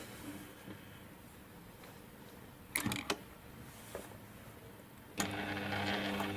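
Juki TL-2200 mini sewing machine run slowly under light foot control: quiet scattered mechanical clicks and taps, then a steadier whirring hum of the motor starting near the end.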